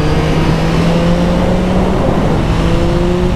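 A 2021 Yamaha MT-09 motorcycle accelerates hard between corners, its loud engine drone rising steadily in pitch and close up, with wind roar and no voices.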